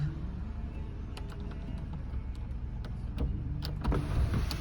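The panoramic sunroof of a 2016 Subaru Forester 2.5i Premium opening, a low steady electric motor hum inside the cabin with a few small clicks and a slight rise near the end.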